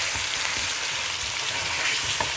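Meat stir frying in a hot wok, a steady loud sizzle with stirring scrapes and small pops running throughout.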